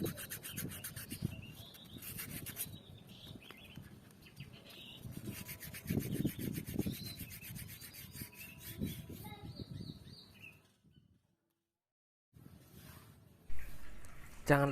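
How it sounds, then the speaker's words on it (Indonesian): 1000-grit sandpaper rubbing an oxygen sensor clean, a steady rasping scrape close up, continuing in irregular strokes, with a short pause near the end. "Kemudian siapkan amplas, kalau saya pakai ukuran yang 1000"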